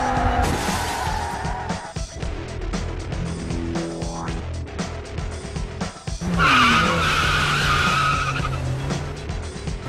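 Tires skid and squeal from cars in the Burnout street racing video game, a continuous loud engine-and-screech mix with a sharp rising squeal near the middle and a louder burst later on.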